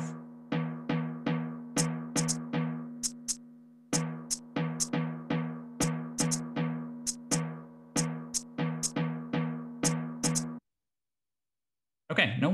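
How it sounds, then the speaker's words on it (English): An irregular percussive rhythm stimulus for rhythmic priming study, with drum-like hits and sharp high clicks at uneven intervals for about ten seconds, followed by silence and a brief final burst. "The irregular rhythm sounds a bit like this."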